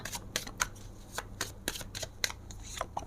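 Tarot cards are shuffled by hand during a fortune-telling reading, producing a close, papery run of irregular riffling flicks and slaps with no voice over them.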